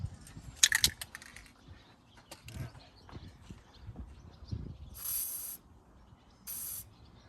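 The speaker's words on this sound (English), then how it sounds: "let me spray some stuff on it." Two short hissing bursts of an aerosol spray on a 1994 Ford F150, about a second each, among scattered clunks and handling noises.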